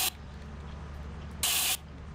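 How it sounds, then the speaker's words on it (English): Spray paint can hissing in Lethal Company, two short bursts: a brief one at the start and a louder, sustained spray of about a third of a second later, over a low steady game drone. "Let me spray right in your face."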